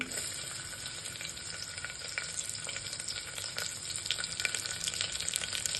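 Mustard seeds and onion sizzle steadily in hot oil for an Indian idli sambar tempering, a dense continuous crackle with small pops throughout and no voices.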